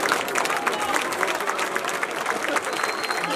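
A crowd claps and cheers for a Greek folk dance association from Larissa at a cultural event, a dense, loud, sustained wash of applause with no pause.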